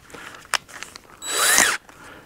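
A handheld power drill fitted with a screwdriver tip spins up in a loud, steady whir lasting about half a second, its pitch rising as it runs, set among a few faint clicks and handling knocks.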